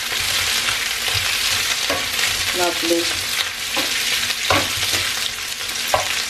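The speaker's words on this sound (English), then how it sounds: "the sausages are sizzling away here" Sausages sizzle steadily in a frying pan, a continuous crackling hiss with a few utensil clicks and a brief spoken remark over it.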